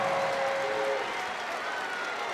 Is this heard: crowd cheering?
yes